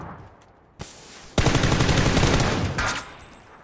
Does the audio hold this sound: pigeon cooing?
no